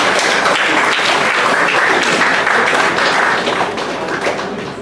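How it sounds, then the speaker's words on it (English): A crowd applauds steadily at a steel orchestra celebration event honoring a musician, dense sustained clapping that fades slightly toward the end, with no talking over it. "Again, a round of applause for Mr."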